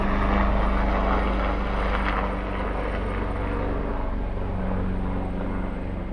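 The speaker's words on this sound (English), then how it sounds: "We'll just wait for the chopper to go overhead." A helicopter drones steadily overhead, its rotor thrum and engine roar loud and continuous throughout with no other sounds.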